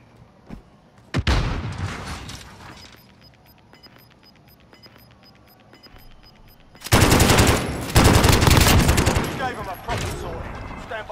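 Heavy automatic gunfire in Call of Duty Warzone: a sharp burst early, quieter scattered shots, then a long loud sustained barrage of shooting and blasts, with a player's voice talking over the action.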